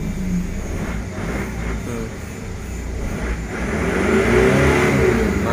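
A 2000 Mitsubishi Pajero with a 3,200 cc 4M41 diesel engine and manual gearbox accelerates hard in first gear, a loud, close engine roar building steadily in strength.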